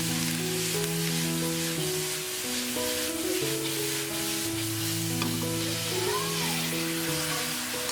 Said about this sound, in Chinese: 锅里加点油，大白菜下锅炒一炒